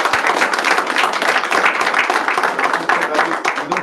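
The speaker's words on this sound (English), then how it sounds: "Let's join and give a round of applause." Dense, steady clapping from a lecture audience fills the room, continuous and fairly loud throughout.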